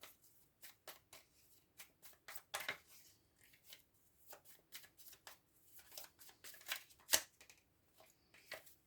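Oracle cards are handled and shuffled close by in a quiet room, giving soft, irregular riffles, flicks and rustles in short bursts, with one sharper snap near the end.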